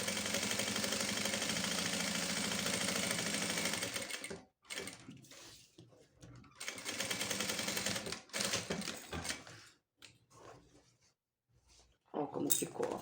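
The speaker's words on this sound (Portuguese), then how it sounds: "pra poder fazer uma costura de segurança aqui, pra poder prender esse forro" Sewing machine running steady stitches to secure a bag's fabric lining, a continuous loud whir that stops and starts in short bursts toward the end.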